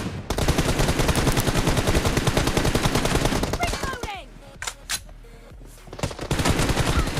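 Rapid automatic gunfire in the BGMI mobile battle royale game, dense continuous bursts for several seconds, then a few scattered short shots after a brief pause, ending with another heavy burst, loud and close with no talking.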